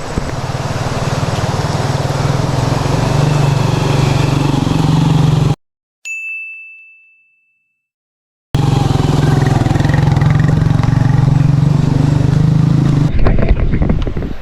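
Motorcycle engines drone loudly and continuously as riders cross a narrow, swaying hanging bridge in a mountain area, broken by a few seconds of silence midway, with rattling at the end.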